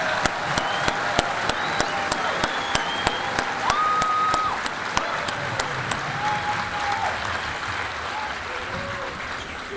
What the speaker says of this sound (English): Can I get a round of applause for our great band?